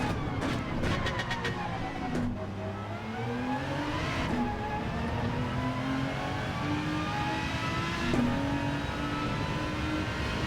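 An Aston Martin DBR9 GT1 race car at Le Mans in Gran Turismo 7 holds a loud, steady engine drone, its pitch rising and dropping through gear shifts with sharp blips on the downshifts, close and continuous.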